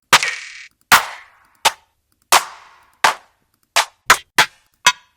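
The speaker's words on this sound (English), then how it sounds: "This snare right here is also made from a flexitone" Snare drum sample made from a flexitone, a series of crisp, loud percussive cracks with short decays, struck alone in an uneven rhythm, nine hits with silence between them.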